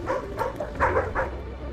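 A dog gives a short run of soft barks and whimpering yips, four or five close, muffled bursts over a low rumbling background.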